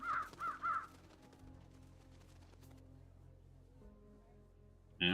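Crow-like caws from birds in the Truberbrook adventure game, three sharp calls in quick succession at the start, then a quiet stretch with low background hum and a final burst at the end.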